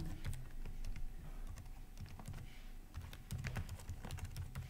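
Fingers tap out an email address on a computer keyboard in quick, irregular keystrokes with short pauses, fairly close and clear, and no one speaks.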